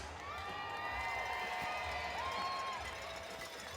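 A roller derby crowd cheers, whoops and applauds for the team mascots at a season finals bout, a steady, dense wash of voices and clapping that fills the whole stretch.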